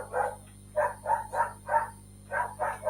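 A dog barks in a quick series of short, mid-pitched woofs, seven of them in irregular pairs and bursts. The barks are fairly close and loud against a low steady hum.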